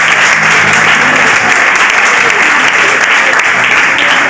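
A church congregation claps loudly and continuously, dense applause filling the room without a break for several seconds.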